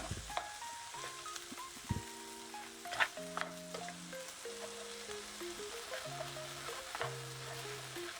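Vegetables frying in a pan give off a steady, close sizzle with occasional stirring scrapes and clinks, while faint background music plays steadily underneath.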